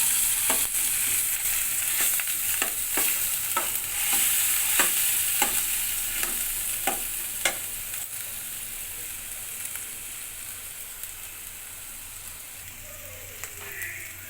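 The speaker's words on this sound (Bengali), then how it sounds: "পেঁয়াজটা ভালো করে লাল লাল করে ভেজে নেব" Onions frying in oil in a pan for a Bengali rohu and catla fish curry, a steady loud sizzle with repeated clicks and scrapes of a spoon stirring, no voices.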